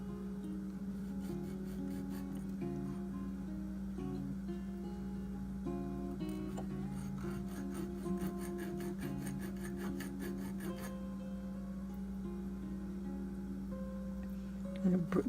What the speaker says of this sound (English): use the fine rasp part of this and do the same thing